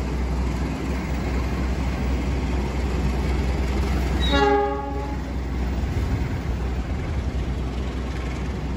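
A train rumbles steadily nearby as it arrives at a station, and a horn sounds briefly midway before the low rolling noise of the cars continues.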